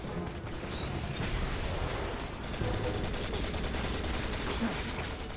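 Steady rattling bursts of gunfire in Resident Evil 6, dense and continuous at moderate volume with no pauses.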